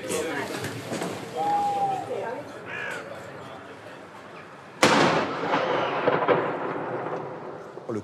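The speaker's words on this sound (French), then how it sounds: "Le coup de canon que l'on vient d'entendre" Edinburgh's traditional one o'clock cannon shot, a sudden sharp boom midway through that rolls and echoes away over several seconds. Before it, quieter outdoor ambience with birds calling.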